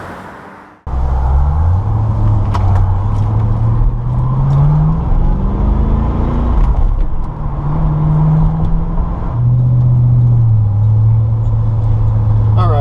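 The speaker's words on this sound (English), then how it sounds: "Today we're out driving a 1996 Chevrolet Corvette LT4." A 1996 Chevrolet Corvette LT4 with its 330-horsepower V8 drones loudly and steadily while driving, pitch rising and falling through gear changes, with someone talking over the engine.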